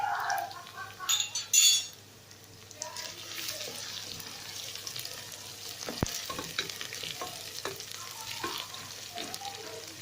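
Onions fry in 2.5 spoons of oil for hareesa, a steady close sizzle with a spoon stirring and scraping, a few clinks of metal utensils, and brief bursts of louder clatter near the start.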